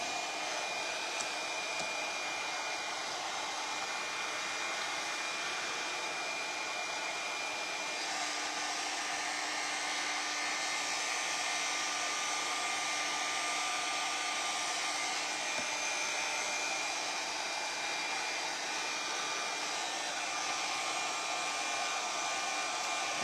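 A hair dryer runs steadily at close range, drying a DAS air-dry clay piece on a Dollar Tree wooden heart wall pocket. The blowing hum continues without a break for over twenty seconds, with no talking.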